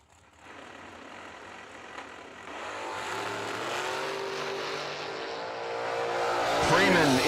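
Mopar drag race cars at the 3rd Annual Summer Fling launch down the strip, engines roaring loud and rising steadily in pitch as they accelerate, with the announcer's commentary running over the noise.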